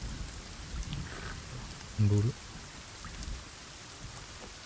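Steady rain falling in the survival video game Sons of the Forest, a soft continuous patter across the whole clip, with a person speaking briefly over it.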